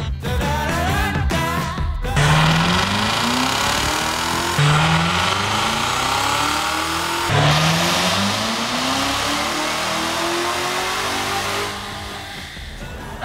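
A 2017 Corvette Z06 roars through repeated full-throttle pulls on a dyno during tuning, each sweep climbing steadily in pitch before cutting off, loud and close, three long runs in a row.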